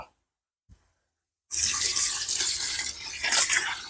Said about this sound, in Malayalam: ഇത്തിരി വെള്ളം ഒഴിച്ചു കൊടുക്കുക.